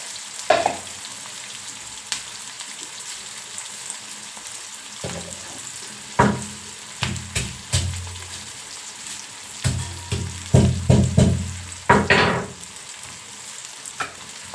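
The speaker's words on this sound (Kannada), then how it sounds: "ಈ ಕಡೆ ನೋಡಿ ಸ್ವಲ್ಪ ಬೆಳ್ಳುಳ್ಳಿ ಗೆಜ್ಜೆ ಹಾಕ್ತೀನಿ." Garlic sizzles in hot oil in a pan, with bursts of frying and crackling as it is stirred, several sharp spikes of spattering over a quieter background, no talking.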